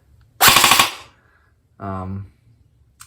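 HLF ARP9 SMG toy gel ball blaster, battery powered, fires one loud close full-auto burst of about eight rapid shots lasting half a second, then gives a brief whirring hum and a faint click.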